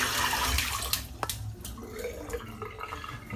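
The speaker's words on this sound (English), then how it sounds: "All I'm doing now is just rinsing the brush out, getting all that soap out." A 30mm cashmere shaving brush is rinsed under running water from a tap, with a close splashing flow and a few sharp drips and knocks over a soft hiss.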